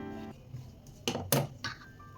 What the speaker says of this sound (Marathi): एक्स्ट्रा भाग कट करून टाकूया.